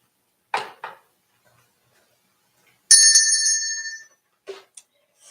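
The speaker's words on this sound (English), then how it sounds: "Would you like to ring the bell?" A bell rings once during a church worship service, a bright sustained tone that rings out for about a second and fades, with a few short knocks and a faint later strike nearby.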